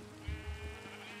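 Sheep in the Minecraft video game bleat a few times in quick succession, short wavering calls over a faint steady background hum, with no talking.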